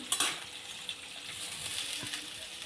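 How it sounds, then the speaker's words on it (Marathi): Onion, coconut and coriander paste sautéing in a pan, a steady soft sizzle and hiss with a few faint clinks of the spatula, close and moderately quiet. "टाकून घेते आणि छान परतून घ्यायची अगदी लाल रंग येईपर्यंत"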